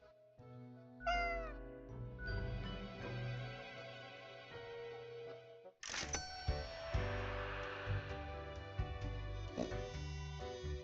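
A cat meows in a video game over a layer of music and game sound, the calls standing out against steady sustained tones across the whole stretch.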